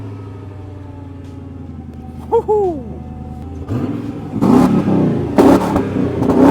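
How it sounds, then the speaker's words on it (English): A Mercedes AMG with a custom exhaust settles into a steady idle after a cold start, then barks through several sharp revs, loud and close. A voice whoops once partway through. "cold start, and you're telling me this has got a custom exhaust?"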